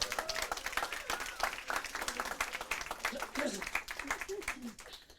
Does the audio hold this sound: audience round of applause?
yes